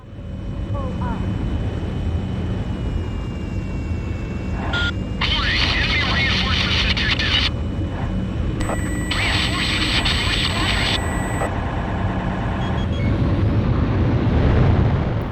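A modded fast jet in the Ace Combat Zero video game roars steadily as it flies away, a loud continuous engine wash with bursts of high-pitched tonal game effects layered over it.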